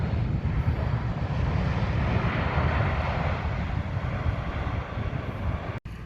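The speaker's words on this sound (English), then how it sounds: "This is AirAsia landing in Kuala Lumpur International Airport." An AirAsia airliner landing at Kuala Lumpur International Airport roars with a loud, steady jet rumble that fills the air continuously from nearby.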